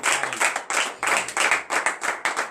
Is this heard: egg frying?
no